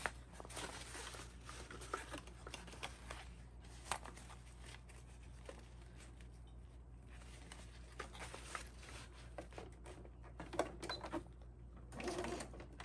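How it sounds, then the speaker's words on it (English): A sewing machine stitches a quarter-inch seam across a fabric zippered pouch. The stitching whirs quietly and evenly, with small rattles and pauses, and no voice over it. "And now we're going to sew across here at 1/4 inch seam allowance."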